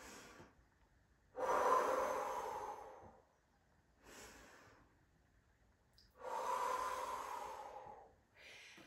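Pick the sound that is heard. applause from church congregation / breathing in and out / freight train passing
breathing in and out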